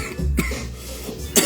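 Someone coughing after smoking ganja, with a couple of short, close, rough bursts and a brief throat-clearing between quieter moments.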